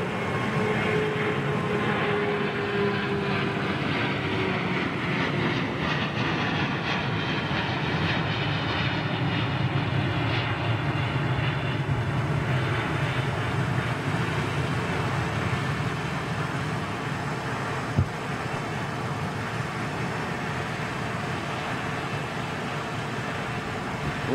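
An airliner takes off at London Heathrow Airport, its gear left down for a long time, and the engines give a steady, powerful roar with a whining tone that holds throughout, heard from a distance with no voices.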